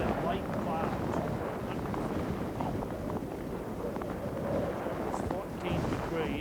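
Strong westerly wind gusting to 63 mph roars across a snowy mountain summit in light cloud, a steady broadband buffeting rushing close to the microphone throughout with slight swells.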